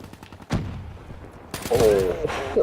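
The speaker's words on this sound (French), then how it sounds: "le fusil à pompe qui fait mal" Shotgun blasts from the Call of Duty: Black Ops 3 game on PS4 boom sharply, one near the start and more later, under a voice talking excitedly.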